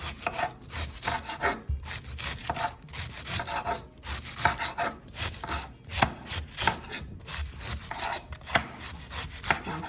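A sharp knife slices cabbage on a wooden cutting board in quick, steady strokes, each cut a crisp crunching chop, close and busy for the whole stretch with no talk.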